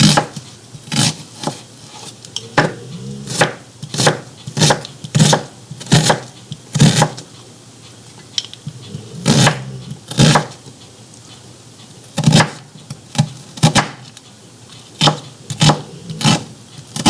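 Onions being chopped for stuffing, a steady run of sharp, close knife strikes on a board in irregular bursts, loud and alone with no talk.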